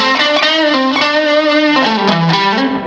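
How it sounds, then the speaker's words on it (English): Electric guitar through an overdrive pedal cranked to maximum gain, playing a loud, sustained and saturated run of notes with thick distortion, steady level and no talking. "This one is really an overdrive pedal."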